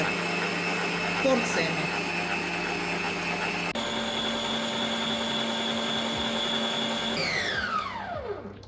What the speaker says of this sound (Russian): Я сейчас использую планетарный миксер.